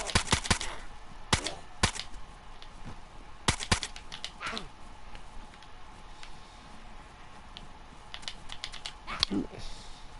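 Sharp, isolated shots from the zombie survival game DayZ on PS4, a handful of sudden cracks scattered irregularly across quiet in-game ambience, fairly close and moderately loud.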